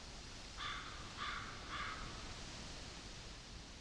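Seagulls call in theHunter hunting game: three short, faint cries spaced evenly over a quiet, hissy outdoor background, with no voices.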